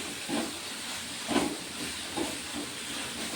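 Lemon pieces sauté in oil with green chillies for lemon pickle, a constant quiet hiss with a few soft swells as the mixture is stirred, no voice over it.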